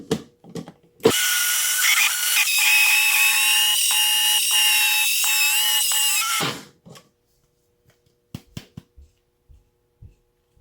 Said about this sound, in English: You're gonna need to use your grinder one more time, and this is to grind 1 cup of your oats into a flour.